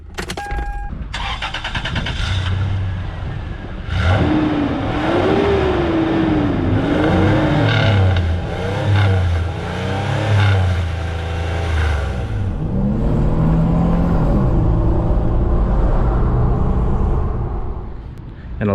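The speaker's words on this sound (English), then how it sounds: "you wanna accelerate hard" A car engine revs hard and climbs in pitch while accelerating, loud and close, with a voice talking over parts of it.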